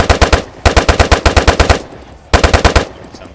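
An RPK light machine gun in the modded ARMA 3 video game fires loud, rapid automatic bursts, two long strings of shots followed by a shorter burst, each with a punchy, even rhythm.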